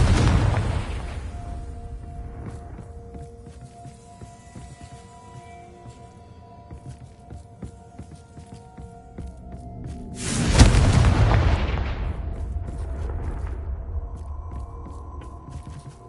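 Confringo blasting-spell explosions in a PS4 video game: a low rumbling boom builds, then a sharp loud blast bursts out near the ten-second mark and rolls off into a sustained roar, with a steady tonal hum underneath.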